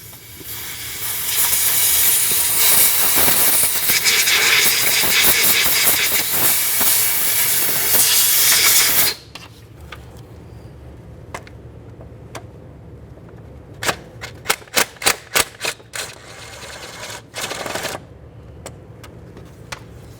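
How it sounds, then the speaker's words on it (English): A 10mm mounting bolt is removed from the transmission of a 2012-2018 Nissan Altima 2.5L. A loud, steady hiss runs for several seconds, then quiet brings bursts of sharp ratchet clicks close by, with no talking. "we'll remove our 10mm headed mounting bolt"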